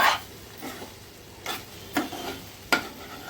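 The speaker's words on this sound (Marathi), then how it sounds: "असंच आपल्याला भेंडी फ्राय करून घ्यायची आहे" Okra frying in a pan with a soft background sizzle, punctuated by several sharp scraping and clinking stirs at irregular intervals, close and fairly clear.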